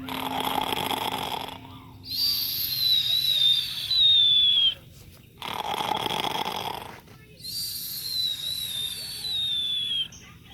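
A voice imitates snoring in slow, drawn-out rasping breaths, three long snores separated by short pauses, with a whistly tone on the exhale.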